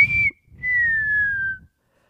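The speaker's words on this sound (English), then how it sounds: "And then he signals with his hand and whistles." A person whistling two clear notes close up: a short high tone, a brief pause, then a longer note that slowly slides downward, over faint background noise.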